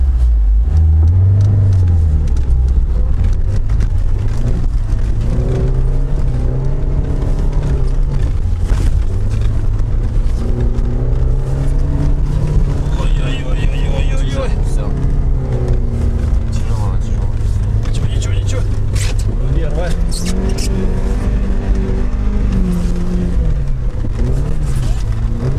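A UAZ Patriot or Lada Niva off-roader crawls along with its differentials locked in second low gear. The engine drones loud and steady, with a labored swell near the end.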